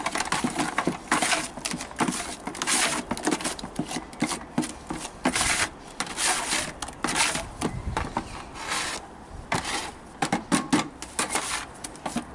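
Multi Finish plaster stirred by hand in a small batch, with irregular scraping, rubbing and knocking strokes of the mixing tool against the tub, close and fairly loud with no talking.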